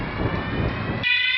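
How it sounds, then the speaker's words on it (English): A building's fire alarm system sounding during firefighter standpipe training: a loud, harsh, continuous buzzing horn that shifts to a sharper tone near the end. "what we have also going off is the fire alarm system, the actual fire alarm system in the building"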